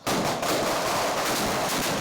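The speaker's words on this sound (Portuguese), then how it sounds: "Bombas e fogos de artifício foram usados durante a briga." Bombs and fireworks going off during a street brawl between Atlético and Coritiba football fans in Paraná, Brazil: a loud, continuous crackling barrage of blasts filling the whole stretch without a pause.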